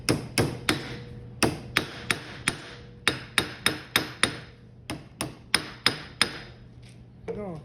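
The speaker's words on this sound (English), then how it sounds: "Hammer." A hammer strikes repeatedly during a greasing and sealing job, about twenty sharp close blows in uneven bursts with brief pauses between groups, loud and clear with no talk.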